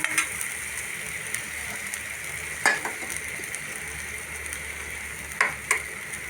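Food fries and sizzles steadily in a pan while being stirred, with occasional sharp clicks and taps of a utensil against the pan as an egg is cracked in, close and continuous.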